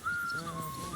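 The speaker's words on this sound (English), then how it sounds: "Stop that whistling." A thin, steady whistled tone from the video game Kingdom Come Deliverance II wavers slightly in pitch, faint and unbroken for about a second.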